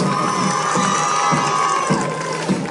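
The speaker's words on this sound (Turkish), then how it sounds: "Tavşana bir alkış gelsin" Children in a crowd cheering and clapping for a performer, a steady loud wash of shouts and applause with no pauses.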